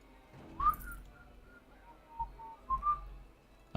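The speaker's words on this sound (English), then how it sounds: "Yeah, you whistle it, janitor man." A janitor character in the Planet Coaster theme-park game whistles a soft, wandering tune of short notes at low level, with no talking over it.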